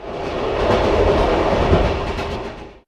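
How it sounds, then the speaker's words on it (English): A freight train rolls through a station with a loud, steady rumble and rhythmic clickety-clack of wagon wheels that fades out at the end. "But freight trains do still pass through,"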